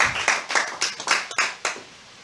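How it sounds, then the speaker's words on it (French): Rhythmic hand clapping at a French-language church seminar, given in praise of Jesus Christ: about seven loud, distinct claps at a steady beat, close by, that stop and leave a quiet tail. "Applaudissons très fort le Seigneur Jésus-Christ"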